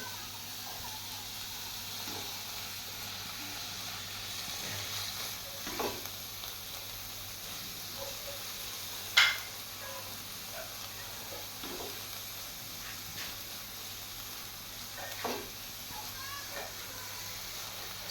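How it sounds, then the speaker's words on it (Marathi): Bottle gourd halwa mixture is sautéed in a pan, with a soft, steady sizzle and occasional spoon scrapes, faint and close. "एक ते दोन मिनटं पुन्हा एकदा हे सर्व छान असं परतून घ्यायचं"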